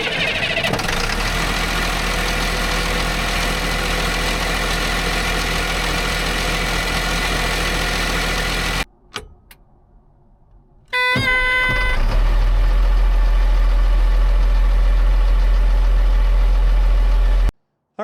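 A Caterpillar 3126 7.2 liter diesel rated 115 horsepower in a CAT D5N dozer runs loud and close with a steady rumbling idle, cuts out briefly, then cranks and restarts into an even heavier, deep idle.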